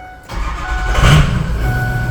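A used truck engine cranks and catches, the idle settling into a steady low rumble close by after the start, with no talk.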